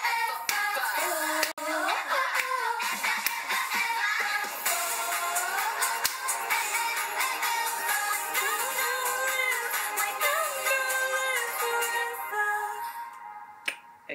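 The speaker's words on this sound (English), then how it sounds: "Clap with me." Rhythmic hand claps and snaps keep time along with loud pop dance music, a steady beat of sharp hits running through the whole stretch of the song.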